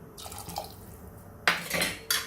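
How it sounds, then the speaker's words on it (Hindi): Water goes into a pressure cooker pot holding chana dal and potato curry, with soft pouring and splashing broken by sharp metallic clinks of utensils against the pot, close and fairly quiet. "थोड़ा और पानी ऐड करूंगी।"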